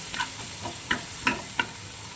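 Onions fry lightly in a pan with a soft, steady sizzle, punctuated by a few quiet taps and scrapes of a spoon stirring them, fairly faint overall.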